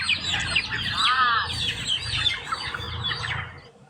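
A chicken clucks and squawks close by for a few seconds, a short run of rising calls over a low background murmur.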